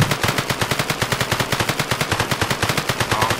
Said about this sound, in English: And now if I go ahead and press play, equip my rifle and shoot.